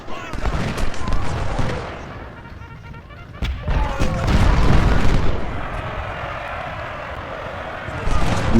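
Artillery thumps and booms roll out in a Civil War strategy game battle. Heavy muffled blasts cluster in the middle with scattered sharper cracks, over a noisy battlefield bed and indistinct voices.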